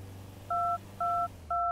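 Three evenly spaced telephone keypad tones beep clearly, each a short steady dual-pitch note, with faint background hum and no talking.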